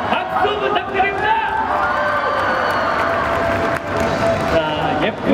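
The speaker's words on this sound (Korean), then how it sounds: "박수 부탁드립니다." An audience applauds and cheers at a live outdoor concert at a theme park. A dense wash of clapping and crowd noise holds steady throughout, with voices mixed into the din.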